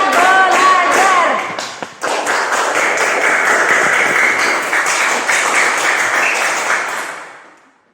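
Elementary classroom students perform a chanted clapping routine, their voices mixing with bursts of rhythmic group claps, then a sustained stretch of loud, dense clapping that fades out near the end.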